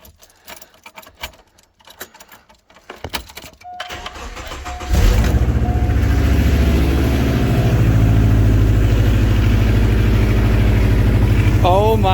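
A Subaru fitted with a Tsudo catback exhaust and its silencer installed starts up, quiet clicks and handling first, then a loud, steady low exhaust drone that holds to the end.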